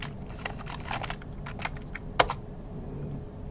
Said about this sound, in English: You can select your button by hitting the tab key and then hitting enter on it.